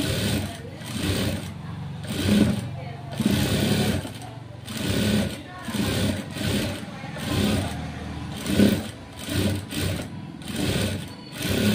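Sewing machine stitching a blouse seam on cut cloth, running steadily and close with a pulsing, rhythmic whir through the whole stretch, a voice faintly underneath.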